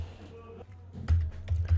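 Keystrokes on a computer keyboard as a web address is entered in an Internet Explorer browser: a short, uneven burst of taps, the louder ones bunched toward the end, close and fairly quiet.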